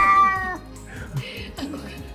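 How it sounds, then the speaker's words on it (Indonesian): A cat meows angrily at a person, a drawn-out harmonic cry at the start followed by shorter, rougher complaints, fairly close and loud against a quiet room. "Ini dibalik, manusia yang dimarahin sama kucing."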